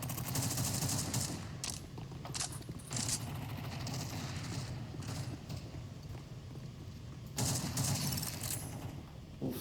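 Gunfire in a first-person shooter video game, rapid bursts of automatic shots in dense volleys with a short lull in the middle, loud and continuous over background game noise.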